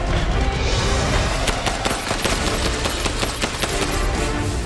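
AK-47 rifles lay down suppressive fire in loud, close, rapid bursts, a dense stream of sharp cracks that carries on without pause.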